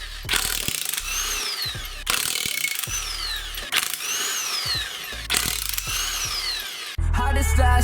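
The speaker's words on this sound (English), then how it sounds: "I'm using the impact to remove this because I'm lazy." A pneumatic impact wrench working a part loose on a 2017 Harley-Davidson Roadster in a garage, firing loud rattling hammering bursts again and again, each roughly a second long with brief gaps between them, then a different, harsher whir at the end.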